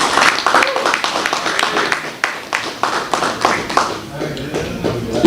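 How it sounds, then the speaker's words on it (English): A crowd at a youth basketball league end-of-season awards and ring ceremony gives a round of applause, dense close clapping throughout with some voices and cheers mixed in. "I want y'all to give him a round of applause for that,"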